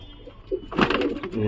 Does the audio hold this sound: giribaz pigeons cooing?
yes